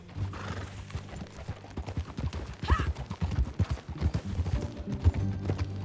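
Horse hooves clip-clop steadily at a riding pace in the Red Dead Redemption 2 epilogue near Beecher's Hope, with a brief whinny partway through, close and fairly loud over faint ambient sound.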